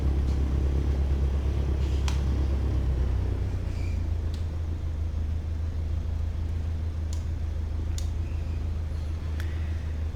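A Cessna 152 light aircraft, engine cowling removed, taxis with a steady low engine drone and rumble throughout, occasional faint clicks and squeaks on top.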